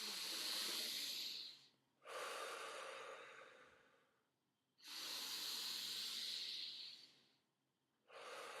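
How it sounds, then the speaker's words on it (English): A person taking deep breaths, slow airy inhales and exhales alternating in long, steady cycles, close and breathy with short pauses between, no talking. "I'm going to take 3 deep, proper breaths."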